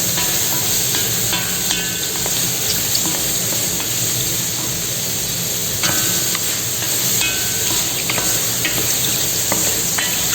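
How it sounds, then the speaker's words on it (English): Eggplant sautéing for a Thai vegetable curry, a steady close sizzle and hiss of frying with spatula stirring and scraping throughout, no voices. "Now add eggplant and saute well."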